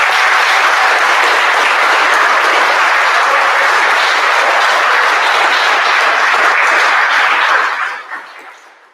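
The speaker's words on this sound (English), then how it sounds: "you can applaud after I say this name" Loud, dense audience applause at a sixth-grade school awards assembly, a sustained clapping crowd greeting a scholarship winner for about eight seconds before quickly tapering off.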